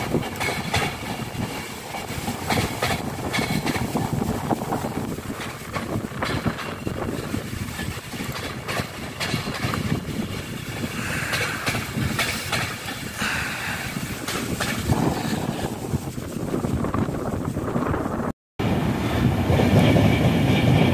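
Avanti West Coast Class 390 Pendolino 390126, running London Euston to Edinburgh, passes close by as a sustained loud roar with clickety-clack of wheels on rail.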